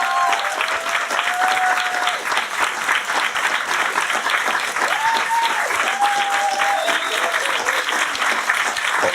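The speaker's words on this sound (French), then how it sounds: "Bravo, applaudissez-vous." A live audience at a public anniversary show gives dense, sustained applause, with scattered whoops and cheers rising above the clapping.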